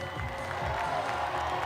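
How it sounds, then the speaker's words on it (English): Crowd at a climbing World Cup lead final in Puurs, a steady wash of cheering and applause from a large audience with a voice talking over it. "Oh, listen to the cheer from the crowd."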